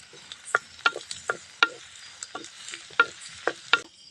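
Onions frying in a pan with curry leaves, stirred by a spoon, give a series of sharp scraping clacks at an uneven pace over a soft sizzle.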